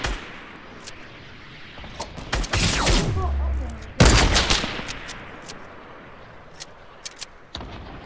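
Rapid bursts of gunfire from the video game Fortnite during a squad match, loud volleys clustered in the middle with scattered single shots before and after, and voices talking quietly in the background.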